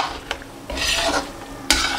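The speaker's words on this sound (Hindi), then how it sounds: "अब इसको अच्छी तरह भूनेंगे, इसको जितना ज़्यादा भूनेंगे उतनी ज़्यादा ये टेस्टी बनेगी" Chicken masala stir-fried (bhuna) in a pan, short bursts of scraping and sizzling as a spoon works the mixture, with quiet gaps between strokes.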